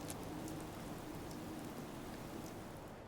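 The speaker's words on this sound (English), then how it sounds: "Because it's like raining in the middle of the night right now." Steady, even rain falls at night in a Fallout game, a soft, continuous hiss of drops with no talking.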